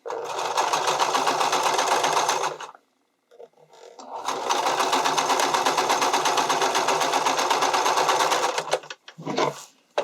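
Sewing machine stitching the underwire channeling of a strappy bikini top, running in two long steady bursts with a brief pause between and a short final burst, loud and close.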